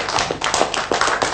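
A primary school class claps for a group of classmates, a short burst of many hands clapping close by at a quick, uneven rhythm.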